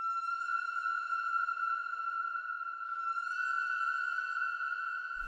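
A processed waterphone sample, pitch-shifted into a steady, eerie sustained tone with shimmering upper overtones that holds evenly for about five seconds.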